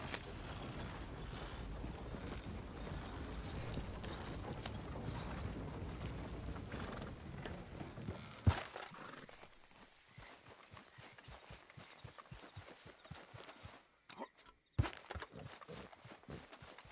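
Horse galloping in the Red Dead Redemption 2 video game, rapid rhythmic hoofbeats thudding over a dense rumbling game mix, then thinner, sparser clip-clops as the pace eases.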